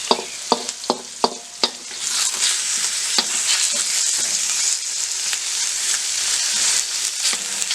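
Chicken, onion and peppers fry in a pan with a steady broadband sizzle, opened by several sharp stirring clacks of a utensil against the pan in the first two seconds, then continuous close frying with occasional scrapes.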